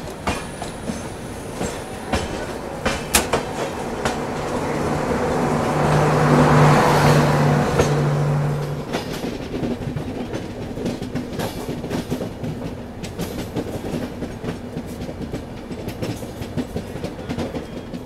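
A Rajdhani Express runs past as a Diva–Ratnagiri passenger train crosses it, with continuous rail rumble and clickety-clack that rises into a louder rush near the middle, then settles back to a steady rolling noise.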